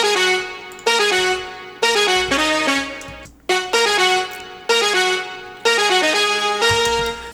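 Brass lead synth patch made in Serum for future bass or house, punchy stabbed chords in a bouncy repeating rhythm with sharp attacks and quick decays, alone with no voice.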